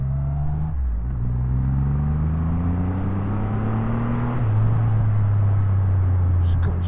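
A 2023 Triumph Rocket 3R motorcycle climbs a steep hill in second gear, its big engine giving a steady, deep, loud rumble that rises in pitch as it pulls, with a rider talking over it throughout.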